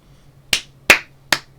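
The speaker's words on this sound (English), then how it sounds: "I'll give you free claps for that" Three sharp hand claps sound close and loud, irregularly spaced over a quiet background with a low hum.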